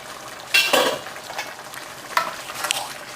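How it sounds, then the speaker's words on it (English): Soft bubbling and sizzling from mapo tofu sauce in a covered pan, with a few louder pops and stirring scrapes against a low simmering background. "now you can hear it bubbling"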